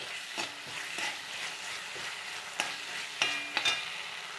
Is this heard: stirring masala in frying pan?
yes